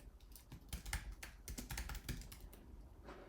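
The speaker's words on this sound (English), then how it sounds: "you can just start typing." Rapid, steady typing on a computer keyboard fills the whole stretch with dense, fairly quiet key clatter and no voices.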